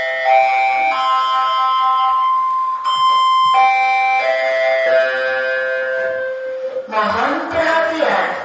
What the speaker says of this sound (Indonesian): bel tanda pergantian jam pelajaran telah berbunyi